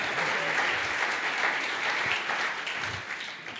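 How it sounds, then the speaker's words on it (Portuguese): A church congregation breaks into applause, a dense and sustained wash of clapping from many hands that fades slightly toward the end. "Aplauda Jesus pela vida dessas pessoas"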